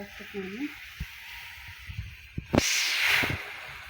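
Masala mixture frying in hot oil for bitter gourd curry, a brief soft voice followed by a few taps and then a loud, close sizzling hiss that swells and holds for over a second.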